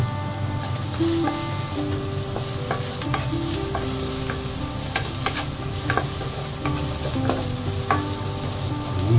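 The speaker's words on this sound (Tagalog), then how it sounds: "Nagpa-init tayo ng mantika ulit. Then, lagyan natin yung ating bawang." Garlic fries in hot cooking oil, a loud, steady sizzle with frequent scraping stirs and clinks of a utensil against the pan.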